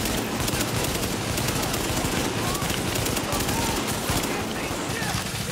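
Gunfire in the video game The Division, a sniper rifle among it, sounds as dense, continuous shooting that fills the clip, loud and close with no clear breaks.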